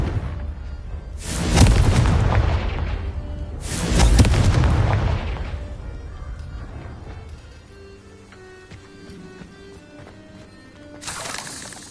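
Confringo blasting-spell explosions in Hogwarts Legacy boom twice in quick succession, loud and rumbling with long decaying tails, followed by a quieter stretch of faint magical tones and a third blast starting at the end.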